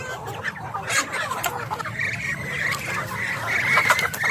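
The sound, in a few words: native chickens clucking among ducks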